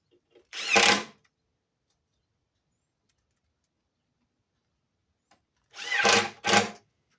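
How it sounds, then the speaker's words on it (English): A power drill whirs through the wood of a small wooden table in short bursts: one near the start, then two more after a long silence. "I'm going to drill exactly in the center of those holes."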